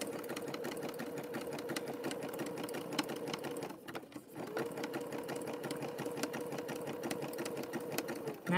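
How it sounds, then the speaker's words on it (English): A sewing machine stitches a rope bowl with a steady, close mechanical whir that runs almost throughout and breaks off briefly midway before resuming. "our sewing machines were not made to make bowls"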